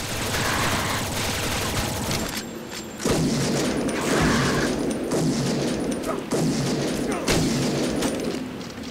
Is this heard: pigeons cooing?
no